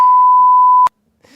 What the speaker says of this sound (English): Have you got the beeping sound?